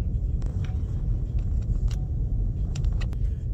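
Steady road traffic in Tinnacle Place, cars rolling past as a continuous low rumble with a few faint clicks and taps on top, no talking.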